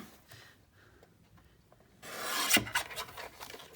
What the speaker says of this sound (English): we're gonna trim this one more time